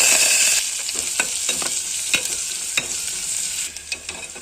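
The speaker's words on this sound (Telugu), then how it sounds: "నూనె బాగా మరిగిన తర్వాత ఆవాలు వేసిన తర్వాత తెల్లగడ్డ అట్లా వేగిన తర్వాత ఎర్రగడ్డలు" Mustard seeds, garlic and onions fry in hot oil, a loud bright hiss with scattered crackles and scraping stirs against the pan, close up and without any talking.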